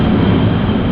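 A loud, steady roar of a large airplane passing overhead outdoors, sustained and unbroken through a brief moment with no voices.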